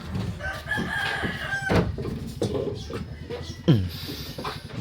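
Chickens clucking close by while a rooster crows at least once, with other bird and farmyard sounds mixed in and no talk over them.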